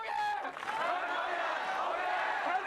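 Crowd of Occupy Central protesters gathered in Hong Kong, a steady murmur of many voices with faint clapping and cheering, fairly distant and continuous, while a person talks over it.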